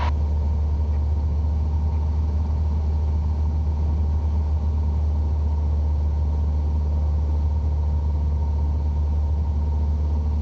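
A Cessna 150 light aircraft's engine drones steadily from inside the cockpit on final approach into a grass strip, a loud, unbroken low rumble with no voices over it.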